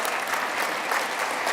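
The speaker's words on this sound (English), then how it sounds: "clap for that" Dense, steady audience applause at a women's hall of fame luncheon, a continuous wash of many hands with no pauses across a short stretch.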